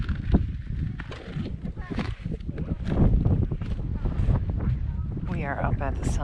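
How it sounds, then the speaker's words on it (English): Strong wind at the summit of Mount Monadnock buffets the microphone in loud, rumbling gusts, with people talking faintly beneath the roar. "It's a little windy as usual."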